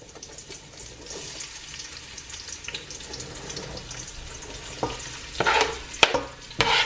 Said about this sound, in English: It should make a sizzling sound.